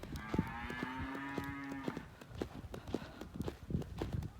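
A cow lets out a long, drawn-out moo nearby, amid scattered clattering hoof sounds and knocks from animals moving around, calves newly separated from their mothers.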